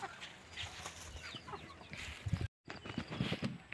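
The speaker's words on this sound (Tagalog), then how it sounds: "Yung manok natin kakaunti na lang" Chickens cluck and murmur nearby in an outdoor poultry yard in Negros after Typhoon Odette, with short irregular calls over background rustling and a brief dropout.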